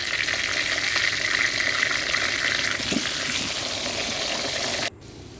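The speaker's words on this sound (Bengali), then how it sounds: "লবণ আর হলুদ দিয়ে আলুগুলো ভেজে নিচ্ছি।" Potatoes frying with salt and turmeric in a biryani pan, a loud continuous sizzle with occasional stirring scrapes close up that cuts off abruptly near the end.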